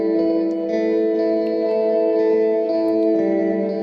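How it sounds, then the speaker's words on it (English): Sustained synthesizer tones from a Euclidean looper swim in a lush, long-tailed Magic Verb reverb by DDMF, held chords smearing together with shimmering upper partials and a slight shift in the texture near the end. "I turned Spacefields reverb off actually, and here using Magic Verb by DDMF."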